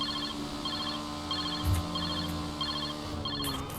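An unanswered phone call rings in a video game, a repeating electronic ringtone pattern sounding in regular bursts over a steady game background hum.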